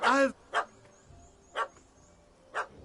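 A dog barks in The Witcher 3: Hearts of Stone on PS5, giving four short, clear woofs spaced about a second apart, fairly close, with quiet game ambience between them.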